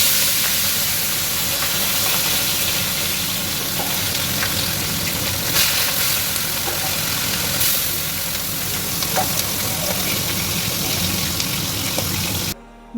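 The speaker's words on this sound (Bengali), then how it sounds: "মাছগুলোকে কড়া করে ভেজে নিতে হবে।" Bata fish frying hard in oil in a wok, a steady loud sizzle and hiss running throughout with occasional pops and spatters.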